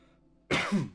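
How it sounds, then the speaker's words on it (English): A single sharp cough bursts out after a quiet moment, close and loud, with a rough throaty tail. "Apologies for the coughing."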